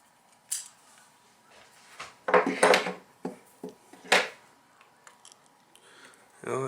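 Screwdriver bit working recessed screws on an Astro 40SL LED worklight, with irregular close clicks, scrapes and small metallic knocks spread through the stretch over a quiet background.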